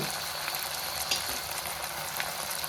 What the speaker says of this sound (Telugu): అల్లం వెల్లుల్లి పేస్ట్ చెప్పాను కదా ఒక టేబుల్ స్పూన్ వేసుకుంటే సరిపోతుంది ఇవి బాగా వేయించుకోవాలి